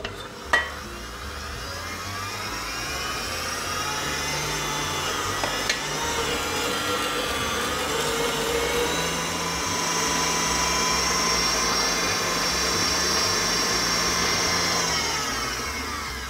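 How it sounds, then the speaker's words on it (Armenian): A meat grinder works through meat and onion with a steady, close whirring drone that holds for about fifteen seconds before cutting off, opening with a single click. "իսկ ես աղամ միսը և սոխը"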